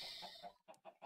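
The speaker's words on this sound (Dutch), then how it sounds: "Nee, ik sla geen kip." A chicken in Minecraft gives a few short clucks, the last three coming as quick separate bursts after a brief gap, close and fairly quiet.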